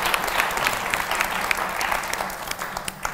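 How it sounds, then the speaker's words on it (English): Applause for a guest speaker at a memorial event, a dense, lively burst of clapping from an audience that carries on for several seconds with scattered louder claps standing out. "Give a round of applause to Mona Eltahawy."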